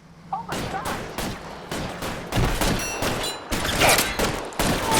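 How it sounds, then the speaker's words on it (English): Rapid bursts of gunfire in a shootout in the video game L.A. Noire, loud and close, crackling in clusters across the whole stretch with faint voices underneath. "we are automatically thrown into a shootout"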